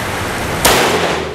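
A single sharp handgun shot cracks out at an outdoor target range during shooting practice, a sudden loud report partway through, followed by a brief decaying tail.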